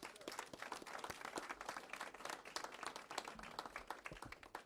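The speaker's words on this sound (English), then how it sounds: "Let's give them a big round of applause." A crowd at a community meeting hosted by the Sons of Phoenix claps steadily for several seconds, an even patter of many hands, distant and quite faint.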